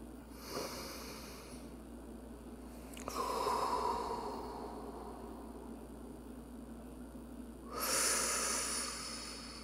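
Slow, deep human breaths during a guided breathing practice, two drawn-out exhalations with a quieter inhale between, heard close and alone without talk.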